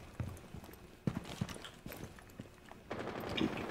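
Quiet gunfire in the video game Rainbow Six Siege: several sharp, irregular shots and short bursts, with some faint footstep-like thuds in between.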